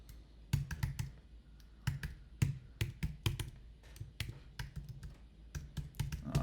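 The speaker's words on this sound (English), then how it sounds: "So you'll type your name in," Someone types a name and email on a computer keyboard with a quick, uneven run of close, crisp key clicks and taps, alone and without talk.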